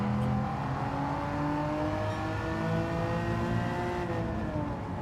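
A TVR Tuscan engine held in 4th gear in a racing game, a steady, loud droning note with rising and falling harmonics as the car slides, and no talking.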